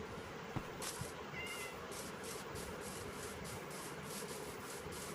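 A cat meows in the Minecraft video game, a short synthetic mew heard once over a steady, loud bed of game noise with repeated rubbing, scraping bursts.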